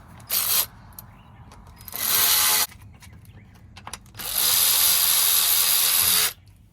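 An electric driver running bolts into a Toyota Previa valve cover, three bursts of loud whirring with short pauses and small clicks between them, the last burst longest, close up with no voices.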